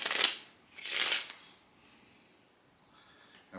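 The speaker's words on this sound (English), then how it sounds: "So what I'm going to do is do another shuffle." Two quick riffling bursts of playing cards being shuffled, close by, followed by near silence and a faint click at the end.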